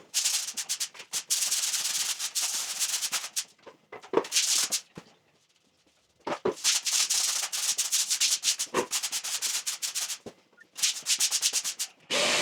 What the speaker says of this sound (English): So I've given the floor a good scrub.